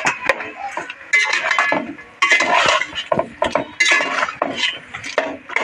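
Spoon scraping and clinking against a metal cooking pot while spices with ginger-garlic paste are stirred in, repeated close, fairly loud strokes in uneven bursts, no voices.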